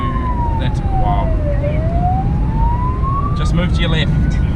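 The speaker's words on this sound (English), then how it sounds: "if you see lights and sirens behind you, don't be like this person" A New Zealand police car siren wails in a slow rising and falling sweep, loud and close over the heavy rumble of the vehicle in motion, with some faint higher tones near the end.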